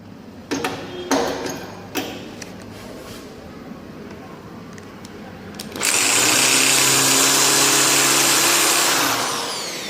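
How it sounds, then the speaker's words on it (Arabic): An electric drill with a small bit whirs loudly and steadily for about four seconds, drilling out a screw on a Universal top-load automatic washing machine, after a few sharp knocks and clatters of handling; no speech. "هبقى اضطر ان انا بالشنيور بتاعي، بحيث ان انا احط بنطة صغيرة فيه واشيل المسمار"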